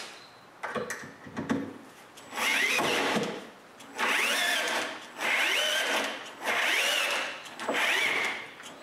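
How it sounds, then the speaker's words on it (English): A power drill bores holes into aluminum rails in five or six repeated bursts of high-pitched whirring, each lasting about a second with short pauses between, close and fairly loud. "I drill some holes into the aluminum rails and screw it to the shelf"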